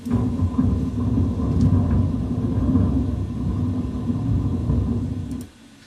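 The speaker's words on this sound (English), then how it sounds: "And having done that, I then slowed it down." A deep, continuous low rumble like distant thunder, made from a slowed-down recording of crumpled tinfoil, rolls for about five seconds, then drops away suddenly into near silence.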